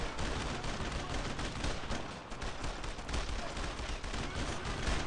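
Dense gunfire in the World War II shooter Brothers in Arms: Road to Hill 30, with rapid rifle and machine-gun bursts crackling continuously and loud throughout the short stretch.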